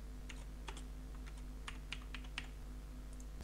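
Computer keyboard keys tapped in short, irregular clusters of clicks, close but quiet over a steady low electrical hum, with no voices.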